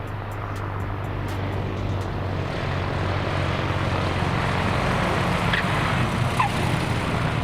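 Cessna 337 Super Skywagon piston twin aircraft with engines running, a steady droning propeller hum with a low tonal throb that holds at moderate loudness throughout, no voices.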